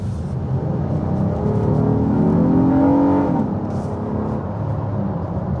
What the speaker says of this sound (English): And that engine noise, how do you not want to hear that V6?